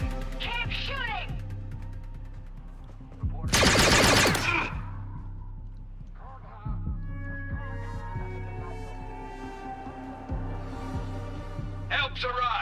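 Video game gunfire in an outlaw shootout, with a loud burst of rapid automatic fire midway among scattered shots, set against a steady background drone and voices talking.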